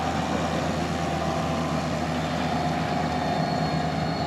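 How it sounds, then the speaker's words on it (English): A beach tractor flattening sand on the beach in Benidorm at night gives off a continuous low engine drone with a steady mechanical hum, fairly close and unbroken, with no talk. "He's flattening the beach and making it pristine for the next day"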